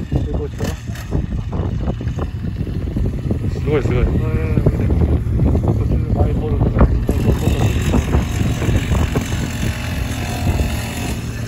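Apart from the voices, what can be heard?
miniature motorcycle engine running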